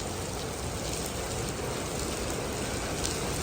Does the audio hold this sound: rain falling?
yes